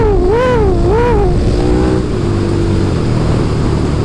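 A KTM 1290 Super Duke R motorcycle accelerates hard in third gear, its engine note rising loud and close in two quick revving surges before settling into a steady, rough drone.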